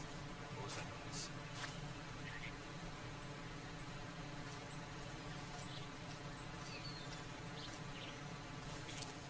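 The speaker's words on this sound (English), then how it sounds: "they really not care about the bees this time?" A steady, quiet buzz of bees in the Metal Gear Solid game, a low droning hum that stays constant throughout with no talking.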